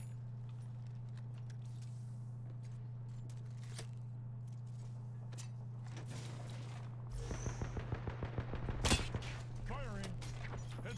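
Gunfire in the video game THX Pathfinder: scattered shots, then a louder run of rapid shots near the end, over a steady low hum, with voices in the background.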